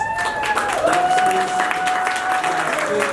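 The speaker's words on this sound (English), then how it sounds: "give everybody here a round of applause" An audience at a gathering breaks into steady, sustained applause, a dense clapping crowd filling the whole stretch with some background voices.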